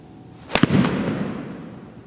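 A golf club strikes a ball for a low punch shot with a 7-iron, a single sharp close crack followed by a brief fading rush, no voices.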